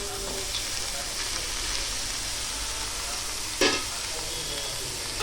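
Sliced bitter gourd (kakarakaya) frying in an uncovered pan and being stirred, with steady soft sizzling, faint scraping and one brief louder clatter near the end.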